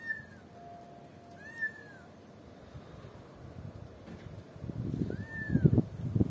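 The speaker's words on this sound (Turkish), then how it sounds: "Orada bir yavru kedi sesi çıkartıyor." Recorded kitten meows played outdoors draw a response from cats: three thin, rising-and-falling mews spread across the stretch, over wind and rustling that grows louder toward the end.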